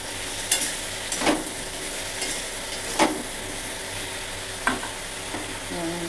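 Ginger and spices frying in a pan, a steady close sizzle with a few sharp scrapes and taps of a spoon stirring at irregular intervals, no talk.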